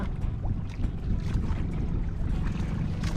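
A fishing boat's new engine runs steadily, a dense continuous low rumble and churn with wind and water noise, close and loud throughout with no break.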